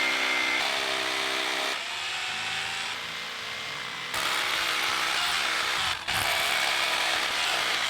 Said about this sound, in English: I am using a rotary hammer drill with a 1/4 inch by 6 inch masonry bit